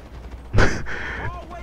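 Gunfire in Grand Theft Auto V comes as a loud, close burst of several shots with a sharp crack and a short decaying tail, set against steady game background noise.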